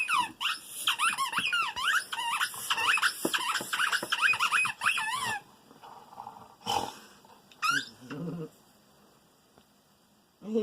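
A six-year-old dog chews a new squeaky toy, producing a rapid run of loud, high squeaks up close, followed by a quieter stretch with a few scattered squeaks and snuffling breaths.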